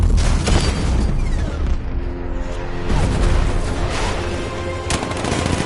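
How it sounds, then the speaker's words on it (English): Heavy 60mm tank cannon fire in the Batman: Arkham Knight video game, booming and rattling in repeated bursts across a loud battle din with sustained rumble and no speech. "60mm cannon operational."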